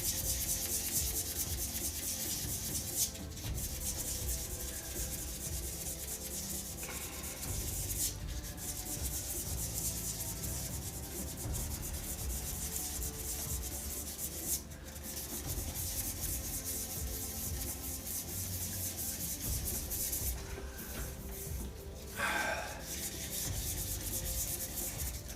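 Hand sanding a turned hybrid resin shaving brush handle to remove radial scratches: a steady, continuous abrasive rubbing that stays close and even throughout, with a few brief pauses and no talking.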